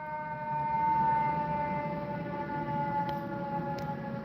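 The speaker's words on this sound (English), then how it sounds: "there's a whole bunch of sirens going on" Several sirens wail together outdoors at some distance, their steady rising and falling tones droning continuously at moderate loudness, with a couple of faint clicks near the end.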